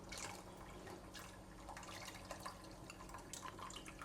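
Tamarind water being strained for a Singapore zi char curry fish head, faint trickling and dripping liquid close up with light splashes over a low kitchen hum.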